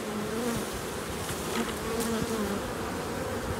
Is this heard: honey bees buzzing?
yes